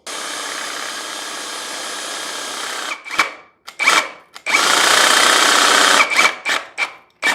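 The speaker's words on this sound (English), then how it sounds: "when you turn it all the way back to the lock position, it should start redirecting that paint out the nozzle" A Lefondat 2-in-1 airless paint sprayer runs with a loud, steady motorized buzz, cuts out and restarts in several short bursts, then settles into another sustained run.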